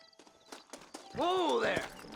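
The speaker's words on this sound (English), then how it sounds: "Horses are over here!" Horse hooves clip-clop at a steady walking rhythm in the Western video game Red Dead Redemption, close and moderately loud, while a horse whinnies loudly partway through.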